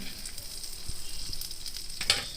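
Spices tempering in melted butter in a pan, giving a soft, steady sizzle with scattered faint crackles and one brief sharper pop near the end.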